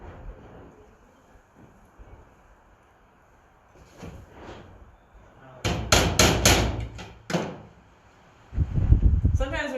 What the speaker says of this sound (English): before I start nailing, I'm going to check my other pieces